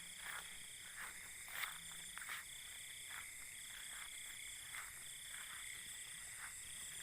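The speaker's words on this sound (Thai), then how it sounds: "กบธรรมชาติเนาะ" Wild frogs croak at night in a natural rural setting, a steady chorus of repeated calls at moderate distance over a constant background drone, with no voices.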